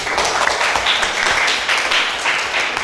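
A classroom of students claps together in brisk, dense applause, a steady close patter of many hands lasting a few seconds.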